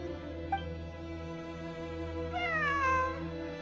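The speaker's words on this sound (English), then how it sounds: "It really is a cat." Cat meowing inside the video game Genshin Impact, set in ruins: a short meow near the start, then a longer, rising-and-falling meow later, heard clearly over a steady low game ambience hum.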